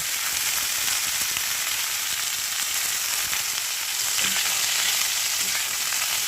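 Steamed cauliflower frying in hot oil in a wok, a steady dense sizzle with a few soft stirring knocks, close and continuous without any voices.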